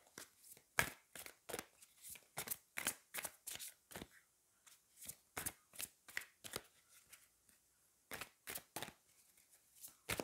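Tarot cards being shuffled nearby, a quiet run of quick riffling bursts in uneven rhythm with short pauses between them, and no voices.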